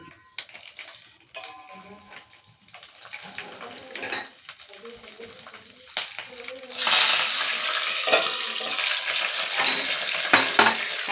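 Urad dal, chana dal and green chillies go into hot oil in a pan, with light stirring and clinks at first, then a loud, steady sizzle once they land. A voice talks over parts of it.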